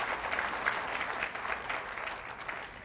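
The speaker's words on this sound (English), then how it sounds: "A big round of applause for our sponsors." An audience at a HeartChallenge student quiz event gives its sponsors continuous applause, a moderately distant, even clatter of many hands with no voices on top.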